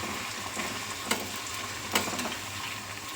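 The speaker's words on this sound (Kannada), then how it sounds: "ಒಂದು ಸ್ವಲ್ಪ ಗೋಲ್ಡನ್ ಬ್ರೌನ್ ಬರೋವರೆಗೂ ಬೇಯಿಸ್ಕೊಳ್ಳೋಣ" Young unpeeled potato fries frying in hot oil, a steady close sizzle and crackle running throughout with a couple of brief sharper pops.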